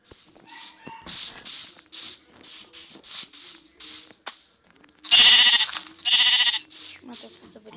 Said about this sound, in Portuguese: Deixa eu matar essas ovelhas aqui e baixar o som.